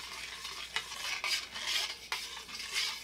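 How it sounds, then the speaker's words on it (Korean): A spoon stirring salt into two litres of water for brine, rhythmic scraping and swishing strokes close by, with a few sharper knocks against the container as the mixing goes on. "물 2리터에 소금 3스푼 넣어 소금물을 만들고"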